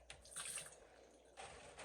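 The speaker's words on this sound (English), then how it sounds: "I'm going to scoop out some of this water." Water being scooped out of a paper-dyeing tray in a kitchen, a brief liquid slosh and trickle followed by a second pour near the end, fairly faint and close.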